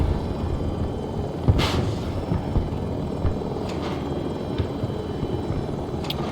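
A helicopter in Battlefield 2042 gives off a steady rumbling, rotor-driven roar that fills the whole stretch, with occasional muffled thumps and hisses of combat mixed in and no voices.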